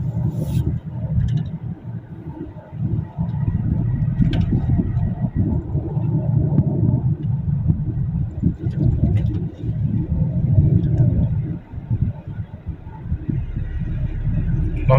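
A car with a 2GD-FTV 2400 cc diesel engine takes a curve at about 70 km/h, its low engine rumble and road drone steady and fairly loud from inside the cabin, with no talk.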